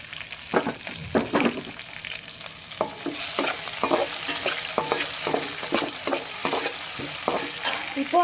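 Chopped tomatoes sautéing in a pan for tomato sambar, a steady close sizzle with repeated rhythmic scrapes and taps of a ladle stirring through it, growing slightly louder midway.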